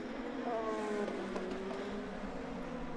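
An IndyCar race car on the final lap at Barber Motorsports Park whines past at a distance, a thin rising and falling engine note over steady crowd and track ambience.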